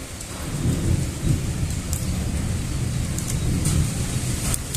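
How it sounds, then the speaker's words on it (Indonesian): Steady rain pours outside during a wet spell, with low rolling thunder rumbling underneath and a few sharper drops or crackles standing out; the downpour stays loud and continuous throughout with no voices. "untuk keadaan di luar cuacanya lagi hujan ya, teman-teman bisa dengar sendiri."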